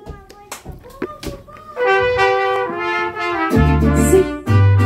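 Hands clapping loosely at a mariachi birthday performance, a few scattered claps at first that build into a fuller applause, with voices and some music rising underneath.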